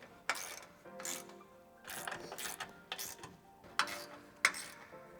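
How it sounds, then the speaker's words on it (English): Ratchet wrench tightening the winch mounting bolts on a Tesla Cybertruck bumper during a T Sportline CTX bumper and Warn VR EVO winch install, with bursts of rapid close clicking separated by short pauses. "we're gonna go ahead and tighten them down."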